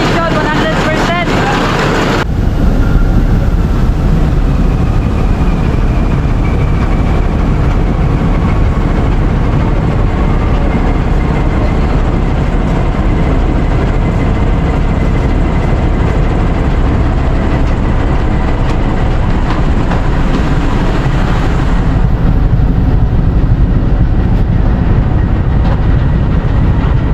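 A ship's main engine runs steadily at a shipyard port during manoeuvring, a loud, continuous low rumble with mechanical drone throughout, partly under background voices and noise.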